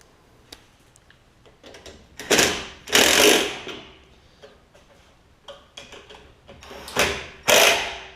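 A socket wrench ratchets down bolts on a Briggs & Stratton Quantum engine of a Statesman push mower, with bursts of clicking ratchet strokes between quieter taps and handling noises, close by.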